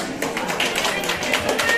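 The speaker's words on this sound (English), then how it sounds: "A round of applause, please." Applause at the Kalayaan Ball 2024 gala: a crowd claps steadily, dense and fairly loud throughout, a continuous wash of many hands with no voices.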